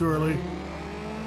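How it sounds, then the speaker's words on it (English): A car engine over-revving in a racing video game, a brief high whine that climbs then drops off, with a voice talking briefly over the start. "That was an over rev."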